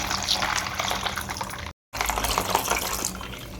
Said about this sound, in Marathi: त्यामध्ये पाणी टाकूया